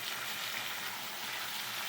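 Chopped tomato and ginger fry in a pan with a soft, continuous sizzle, quiet and steady throughout with no talk over it.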